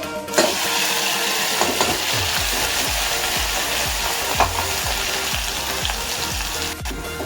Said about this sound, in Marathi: हे सर्व वाटण असं मस्त तेलामध्ये मी परतून घेणार आहे.